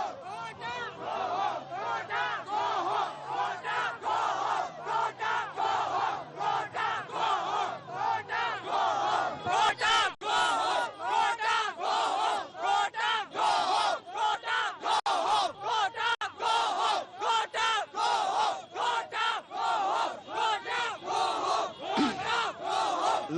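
A large crowd at Independence Square in Colombo cheers, shouts and chants continuously in loud, rhythmic bursts, a dense roar of many voices filling the whole stretch.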